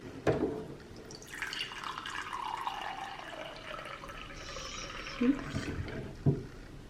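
Drops of liquid chlorophyll fall one by one into a glass of water. A few soft, close plinks come under a steady background hiss.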